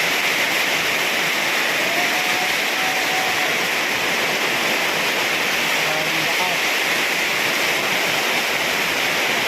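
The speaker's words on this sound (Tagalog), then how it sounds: "napakalakas ang ulan oh" Heavy rain pours down in a dense, unbroken roar that stays loud and even throughout, like a wall of water hitting surfaces all around.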